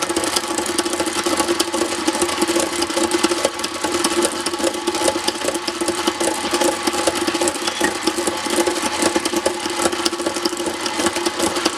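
A yarn winder runs steadily on a table, a continuous mechanical whir with a rapid rhythmic hum, close and fairly loud throughout.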